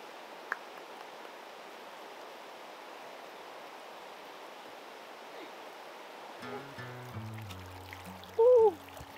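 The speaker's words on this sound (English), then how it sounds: "So a really gorgeous creek." A steep-banked creek near Diablo Lake flows in a steady broadband wash that fills the whole stretch, with a few faint knocks and a short louder burst near the end.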